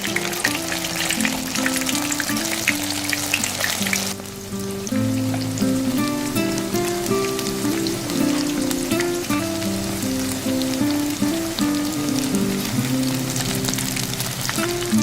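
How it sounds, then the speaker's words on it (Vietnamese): Pork ribs fry in hot oil in a pan over medium heat, giving a loud, constant crackling sizzle that briefly dips, then carries on over light background music. "Khi dầu vừa nóng á, thì mình cho sườn vào chiên."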